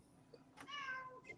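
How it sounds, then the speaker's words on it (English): A single cat meows once near the middle, a short clear harmonic cry over quiet room tone, with a faint second call toward the end. "If the kitty wants to come up, jump him up."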